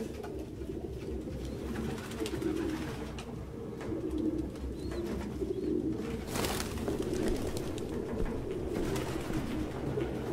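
Pigeons coo in a low, repeated, burbling rhythm inside the Detroit: Become Human video game, steady and fairly close over faint background noise.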